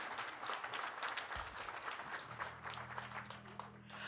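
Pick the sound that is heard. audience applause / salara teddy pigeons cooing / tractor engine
audience applause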